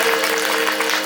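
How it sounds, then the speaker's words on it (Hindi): Dense, steady applause from the audience fills the hall for the hosts at a Shrimad Bhagavat Katha religious gathering at Hanumangarhi temple in Kathgodam, loud and continuous throughout with no voices over it. "एक बार उनके लिए जोरदार ताली बजा के बहुत बहुत नमन।"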